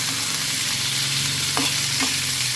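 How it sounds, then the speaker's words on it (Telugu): Peanuts and green chilies fry in a pan, a loud, constant crackling sizzle with a couple of brief stirring knocks midway and no voices. "పల్లీలు పల్లీలు ఫ్రై కావాలి"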